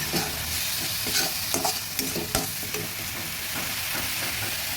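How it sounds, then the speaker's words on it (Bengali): Chickpea curry with turmeric stirred in a pan with a little added water: steady frying sizzle under repeated scraping strokes and occasional sharp utensil taps, continuous and close, with no talk. "আর একটু জল দিয়ে নেড়ে দিচ্ছি"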